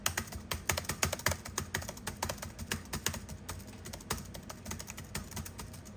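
Rapid, uneven typing on a loose, poorly stabilized vintage Dell Inspiron laptop keyboard, a steady stream of clacky keystrokes heard up close with no voices.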